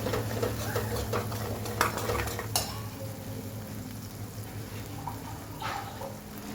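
A utensil scrapes and stirs chili powder, Kashmiri chili and coriander-cumin powder through a sizzling pan, a steady frying hiss underneath with a few sharper clinks along the way.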